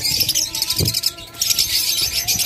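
Adult farm-raised pet birds about 14 to 15 months old call from a bird farm, with bright repeated chirps and trills overlapping, plus a low cooing note, moderately close and continuous.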